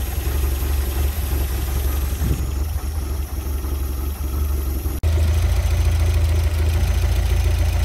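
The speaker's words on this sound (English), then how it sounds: "just going to run the engine hot and make sure we've got no bubbles left." A Porsche 924 engine idles hot after a coolant change, a steady low rumble that is close and continuous with no talk, jumping a bit louder partway through.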